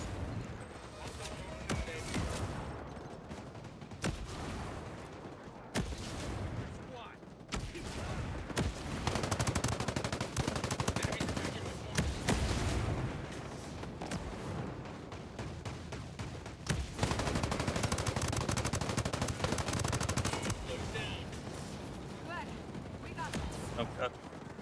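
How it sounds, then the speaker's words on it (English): Mortar blasts and rapid gunfire in the tactical shooter Ghost Recon: Breakpoint, a dense, continuous barrage of shots and heavy impacts filling the whole stretch, with a voice talking over the combat. "We got mortars."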